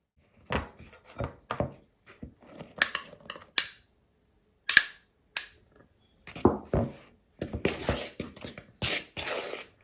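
A spoon clinks and scrapes against a bowl while stirring chocolate cake batter, in quick, irregular bursts close to the listener, with short pauses between strokes.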